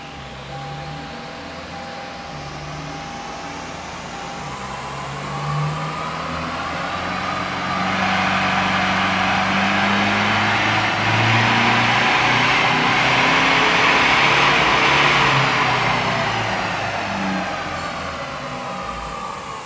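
A Toyota Hiace with a 1GD diesel engine revs up on a dyno, a loud close engine drone that climbs steadily in pitch and volume, holds near the top, then eases back down.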